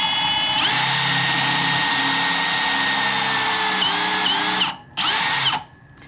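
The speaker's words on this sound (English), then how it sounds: "and drill the pocket hole." A power drill runs up to full speed and bores a pocket hole through oak in a Kreg jig, a steady loud whine lasting about four seconds, then the pitch dips under load before a short final burst and stop.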